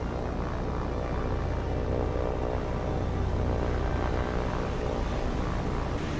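A Jake floatplane flies in the naval combat game War On The Sea, a steady broadband engine drone running unbroken and fairly loud at high altitude, with no voices present.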